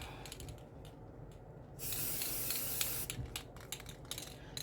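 A spray can hisses in a steady burst for about a second, surrounded by shorter sprays and faint rattling handling noises.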